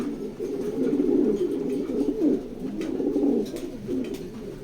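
A pair of large racing pigeons at a loft cooing steadily, with soft overlapping throaty coos that continue without a break, close by and with no talking.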